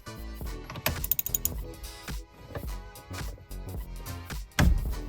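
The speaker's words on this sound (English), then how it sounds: "we're just going to take our ratchet and remove that 19mm bolt right in the center of the steering wheel" A ratchet works loose the 19mm bolt at the center of the steering wheel on a Honda Civic EP3 Si, giving quick bursts of close mechanical clicking with some knocks and shuffling around them.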